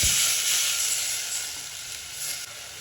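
Loud, steady hiss of a tempering (vaghar) for Gujarati kadhi, crackling hard at first and easing slightly over a few seconds, with no voices.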